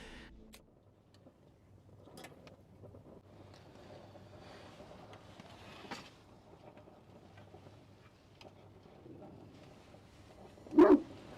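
Dogs barking outdoors at night at a campsite beside a camper van. Wind and quiet open-air ambience run throughout, then one loud, close bark burst lands near the end.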